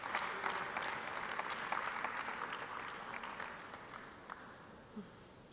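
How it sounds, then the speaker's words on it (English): An audience applauds award winners at a city-network ceremony, a sustained, fairly loud wash of many hands clapping that slowly fades in intensity toward the end. "A round of applause, please, for all of our winners."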